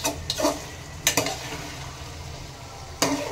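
Mutton cooking in a pot gives a low, soft sizzle, broken by a few sharp scraping knocks as it is stirred. The stirring comes in short bursts near the start, around the middle and near the end.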